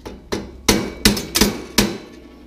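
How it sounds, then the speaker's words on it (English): A hammer striking a bicycle pedal on an Elswick Super Sprint Racer, five sharp metallic blows in an uneven rhythm with ringing decay after each, loud and close with no talking. "I think I'm going to have to hit that a dunt with a hammer."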